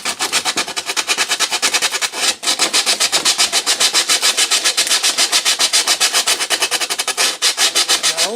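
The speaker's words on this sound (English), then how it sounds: "I'm going to take my rougher grit sandpaper," Cedar wood being hand-sanded with coarse-grit sandpaper, a close, loud, rhythmic rasp of quick back-and-forth strokes repeating steadily with only a brief pause.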